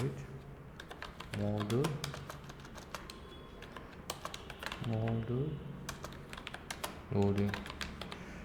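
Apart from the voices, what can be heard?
typing on a computer keyboard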